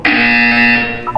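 A single loud, harsh electronic buzzer from the video game Portal 2 blares for about a second, a flat droning tone that cuts off abruptly.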